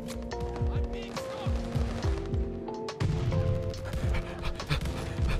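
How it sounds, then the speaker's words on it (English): An attack dog in Call of Duty pants in quick rhythmic huffs, close and loud, while gunfire pops around it and people talk over the noise. "No, the fucking dog!"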